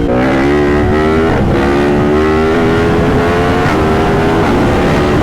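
The engine of a 2023 Yamaha MT-10 SP motorcycle while riding: a loud, continuous growl with rising pitch as it pulls under throttle, with wind rush close up and no pauses.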